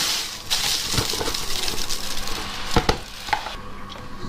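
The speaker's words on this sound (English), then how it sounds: "we're just going to keep stirring it until it's all dissolved" Sugar stirred into ripe strawberries in a pan for jam, a soft, continuous scraping and gritty swish with occasional spoon knocks against the side, close and unaccompanied by talk.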